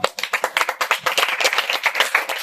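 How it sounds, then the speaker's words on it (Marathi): A small group claps together at a birthday celebration for a mandal office-bearer. The applause is loud and close, with quick uneven rhythm, and it carries on steadily with no speech over it. "टाळ्या वाजवा जोरदार"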